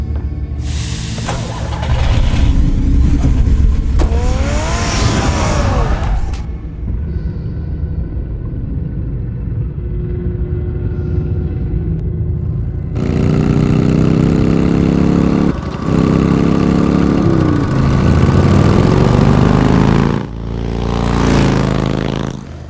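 The Batmobile's powerful engine in Batman: The Telltale Series, loud rumbling revs that rise and fall, a quieter idling stretch in the middle, then a renewed roaring surge and a final burst.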